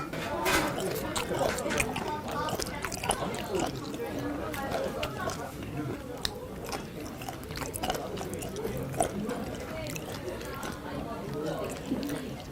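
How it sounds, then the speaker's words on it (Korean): Close, wet chewing and crunching of abalone continues steadily, with soft mouth noises and clicks throughout and no talking. "전복 씹는 소리?"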